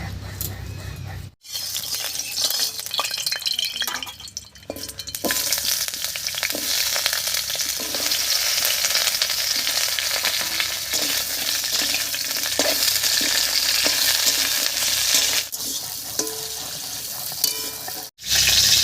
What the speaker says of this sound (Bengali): এই তেলের মধ্যে আমি সজনে ডাটাটা হালকা করে ভেজে নেব